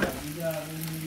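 Pad see ew noodles stir-frying in a pan, a steady close sizzle with scraping stir strokes running throughout, no voices.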